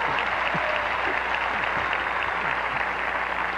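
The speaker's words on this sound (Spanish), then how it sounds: "Que se oigan los aplausos" Clapping from the audience at a Miss Venezuela pageant, a continuous, moderately loud ovation heard through broadcast sound with a persistent low hum underneath.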